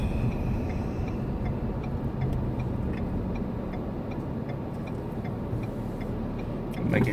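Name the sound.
box truck passing by on the road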